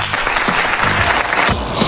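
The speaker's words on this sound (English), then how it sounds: "You take your final bows as the crowd cheers." Crowd applause in a mobile story game, a continuous dense patter of clapping at steady volume, heard alone.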